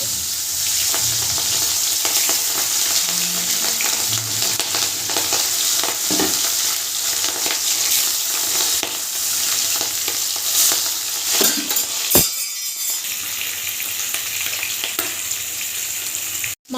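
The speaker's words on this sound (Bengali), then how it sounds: "এবার আমি তেলের ভেতর মাছগুলো একে একে দিয়ে ভেজে নেব।" Hilsa fish pieces fry in hot mustard oil in a wok, giving a loud, steady, close sizzle with occasional stirring clatter and no talking.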